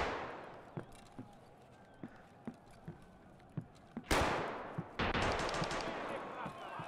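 Gunfire in Escape from Tarkov Arena: faint, evenly spaced distant shots crack one after another, then two louder close bursts break out with heavier sustained firing.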